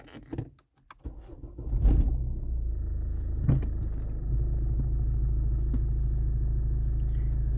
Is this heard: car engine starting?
yes